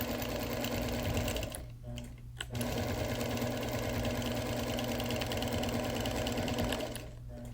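Close, steady whir and rapid stitching of a sewing machine quilting a wool wall quilt in black thread, running continuously with two brief pauses.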